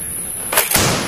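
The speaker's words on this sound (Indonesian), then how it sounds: "soft bullet blaster." A toy soft bullet blaster fires once: a single short, sharp pop with a brief rattling tail, standing out loud and close against quiet room noise.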